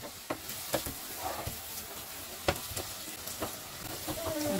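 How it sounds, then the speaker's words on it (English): Ginger and garlic frying in a pan for a gizzard sauce, a steady close sizzle broken by scattered sharp pops and crackles of spattering oil, with light clinks of stirring. "I just let this fry. So now I just add my ginger and garlic."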